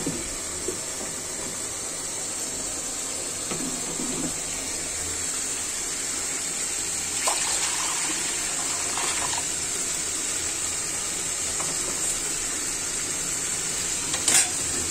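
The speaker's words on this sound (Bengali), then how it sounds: "আমি আমার এই যে চুলায় গরম পানি আছে এটা দিয়ে দিব।" Hot water poured into a pan of cooking meat curry, giving a steady hiss and bubbling sizzle with a few brief clinks from the pot, all fairly even throughout.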